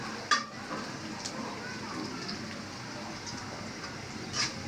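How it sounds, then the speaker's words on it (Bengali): Bitter jute leaves (pat shak) frying in a pan on a weak gas stove, a faint steady sizzle with a few soft clinks of a utensil against the pan. "এই যে এখন পাট শাকটা ভাজি করে নিতেছি"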